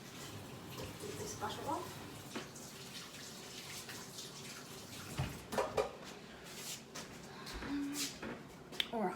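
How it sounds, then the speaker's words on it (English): Tap water runs into a kitchen sink while someone washes butter off their hands during baking, a steady close splashing stream with brief clinks, while a person talks over it. "And quickly wash my hands."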